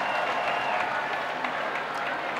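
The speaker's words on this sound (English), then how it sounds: "give Jesus a wonderful clap of praise" A church congregation clapping in praise, a dense, steady wash of many hands sounding close and full, with a faint murmur of voices underneath.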